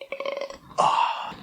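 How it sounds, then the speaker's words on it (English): Loud burp after drinking seltzer water: a single drawn-out belch that follows a faint, low, gurgling voiced onset and fades away gradually. "Heard you can't drink one of these without burping"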